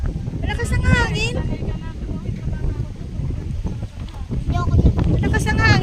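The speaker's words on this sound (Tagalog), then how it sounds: "Ang lakas ng hangin." Strong wind buffets the microphone at a hanging bridge in Baler, a loud continuous rumbling roar, while people talk throughout and a voice rises over it.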